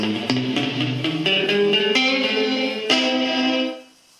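An electric guitar plays a short run of plucked notes through a 1970s Roland RE-201 Space Echo tape echo, each followed by a quick slapback echo, ending with a fading ring.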